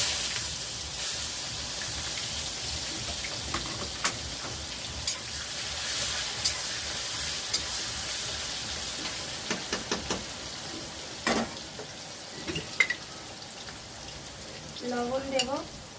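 Onions tossed into hot oil with whole cumin sizzle steadily in a pan at close range, with scattered clicks and knocks of stirring, and a brief voice near the end.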